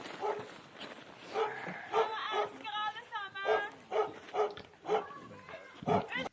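A dog barks repeatedly in short, sharp yips close by, mixed in with people talking and laughing in Norwegian indoors.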